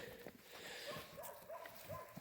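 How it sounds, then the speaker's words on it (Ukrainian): Small wild puppy at a garbage dump makes faint, brief growling and whimpering sounds, quiet and close, with low background noise. "Чуйте гарчить."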